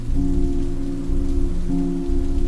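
Rain on a rainy night as a steady, loud wash of falling drops, heard alone and continuous, with a low tonal hum running underneath.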